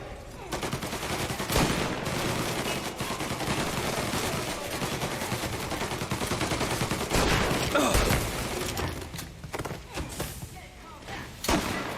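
Dense, sustained gunfire from a shootout in the video game Mafia Definitive Edition, with rapid bursts and heavy thuds running loud and continuous throughout, with brief voices shouting amid the shooting.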